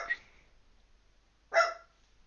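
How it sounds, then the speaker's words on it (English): Small dog giving two short barks indoors, one at the start and a louder one about a second and a half later, with quiet room tone between. "Gigi's barking at something"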